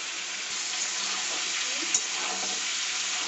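Food frying lightly in a pan gives a steady, soft hiss throughout, close and even, with a faint clunk near the end and no talk.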